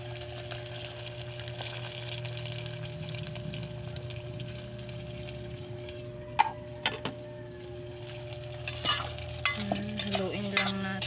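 Sardines frying in a pan, a soft continuous sizzle with a low steady hum behind it, then a run of sharp utensil clicks and scrapes as they are stirred near the end, no talking.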